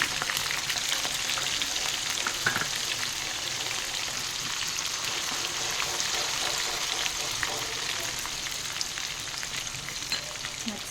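Soaked chana dal fries in hot oil for gunta ponganalu, giving a continuous, even, close-up sizzle with no talking.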